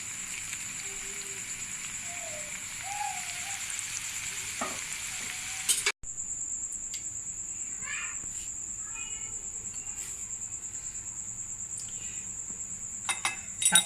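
Chips coated in rice flour frying in oil, with a continuous soft, crackling sizzle at low volume, a brief break midway and a few faint clinks.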